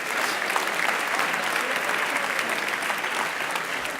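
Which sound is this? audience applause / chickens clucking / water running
audience applause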